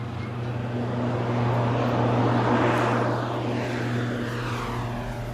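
A cargo plane hauling about 1.7 tons of cassiterite ore drones in flight from Walikale to Goma, heard from inside the cabin as a loud, steady propeller and engine roar with a constant low hum.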